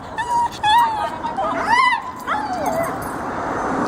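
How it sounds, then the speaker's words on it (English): A dog across a neighborhood street gives a few short, high yips and whimpering cries at moderate distance, with a person speaking nearby. "There's a dog across the street here."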